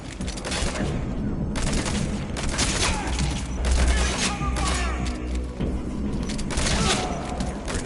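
Dense, continuous gunfire and explosions from Metal Gear Solid V, loud and busy throughout with bursts and booms layered together, and a voice occasionally under the noise.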